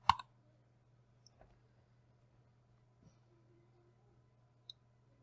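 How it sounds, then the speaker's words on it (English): A computer mouse button clicks sharply once at the start, followed by a few fainter clicks spread across an otherwise quiet stretch with a low steady hum. "I'm going to click the play button."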